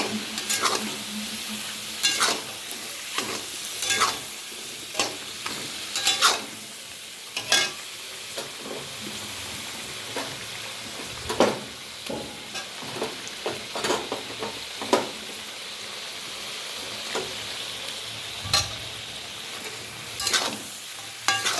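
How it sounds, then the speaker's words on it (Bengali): A paste of onion, garlic and chili fries in a pan, a steady close sizzle punctuated throughout by repeated scraping and clinking strokes as it is stirred. "এরপরে আমি দেবো এই যে পেঁয়াজ, রসুন, লঙ্কা একবারে পেস্ট করে নিয়েছি ভেজে।"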